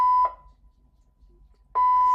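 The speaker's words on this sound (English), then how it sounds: "Okay, it's just fire alarm." A fire alarm sounds two loud electronic beeps with a long gap of near silence between them, a steady tone broken by a quiet pause before repeating.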